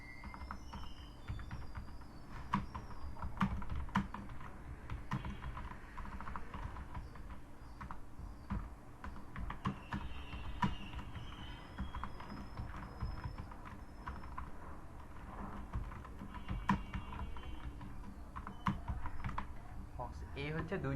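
Computer keyboard keys clatter in a steady, uneven run of close, light clicks while someone types text into a word-processing document, with brief pauses between bursts.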